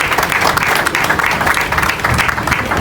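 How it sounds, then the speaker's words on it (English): A room full of people clapping steadily for a civil engineer being welcomed at a solar-powered estate event, close and loud, a brief dense burst with no pause. "a round of applause for him."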